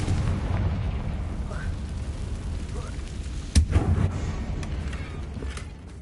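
A Confringo blasting spell from Hogwarts Legacy lands at a damaged bridge as a single deep boom with a low rumbling tail, heard over a steady game ambience bed.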